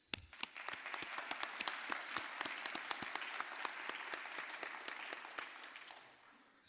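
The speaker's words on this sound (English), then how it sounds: "So an applause for the awards subcommittees." Audience applause at the ISCAS 2015 awards ceremony for the awards subcommittees, steady hall-wide clapping with distinct sharp claps standing out, sustained for several seconds before fading away.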